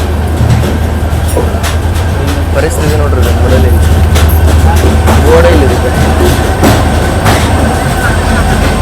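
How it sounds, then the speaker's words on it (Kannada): A train sitting in the maintenance pit line at Tirupati gives a steady low rumble with occasional clanks and hiss, continuous and fairly loud, while someone talks over it. "ಯಾವುದೋ ಟ್ರೈನ್ ಇಲ್ಲಿ ಪಿಟ್ ಲೈನ್ ಒಳಗೆ ಸರ್."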